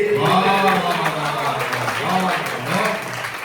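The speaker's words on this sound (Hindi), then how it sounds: "तालियां हो जाए।" Audience applause at a Rajasthani kavi sammelan poetry recital, a steady wash of clapping sustained throughout with a voice carrying over it.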